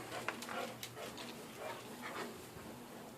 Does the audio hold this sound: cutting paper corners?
no